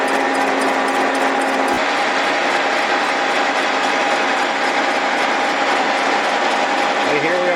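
Milling machine cutting across a Willys L cylinder head at six thousandths depth of cut, a continuous close mechanical whir with faint clicking, loud and steady throughout.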